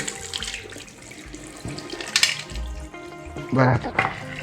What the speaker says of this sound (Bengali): একবার জল ফেলে দিই